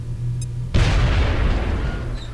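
A grenade detonates in the XCOM video game on a river valley map with a sudden loud blast, followed by a heavy rumbling roar that slowly fades.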